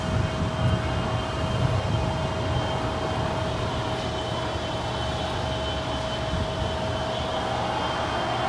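A Korean Air Boeing 777 airliner at LAX idles during pushback, a steady engine drone with a constant whine held evenly throughout, fairly distant and unbroken.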